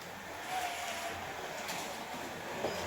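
Carrera Evolution slot car on a 132 track, a steady whirring electric motor hum running continuously for a few seconds, fairly close with no talk.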